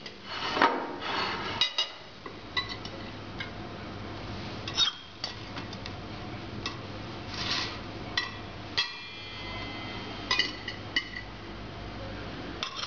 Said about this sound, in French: Le couteau sert de pelle et l'on dépose en tournant à chaque fois le plat, la quiche, dans le plat